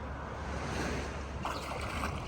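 Pacific Ocean surf at Shirahama White Sand beach in Wakayama, Japan, a steady broad wash of waves mixed with wind buffeting, no voices heard.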